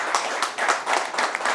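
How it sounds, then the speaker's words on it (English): Brief applause at a community candidates' forum, a steady wash of many hands clapping together, fairly loud and close, lasting under two seconds. "round of applause for these guys"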